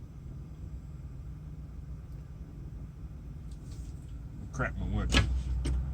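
A Freightliner truck engine idles with a low, steady rumble throughout, picking up a louder, rougher burst near the end, with a voice speaking briefly over it from inside a nearby vehicle.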